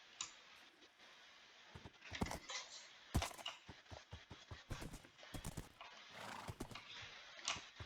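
Video game horse sounds with irregular hoof clops and clicking steps, plus a neigh, crisp and close, scattered over several seconds without talk.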